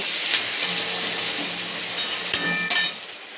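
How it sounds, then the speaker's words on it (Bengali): Chopped onion and green chilli fry in hot oil with a steady, close sizzle, broken near the end by a couple of sharp metallic clinks of a spoon against the pan. "পেঁয়াজ কাঁচা লঙ্কাটা একটু ভেজে নেব।"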